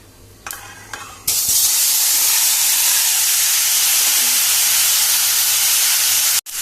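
Mustard seeds and hog plums drop into hot oil in a pan for a Konkani vegetable dish. A few faint taps come first, then a sudden loud, steady hiss of sizzling that holds close and strong to the end.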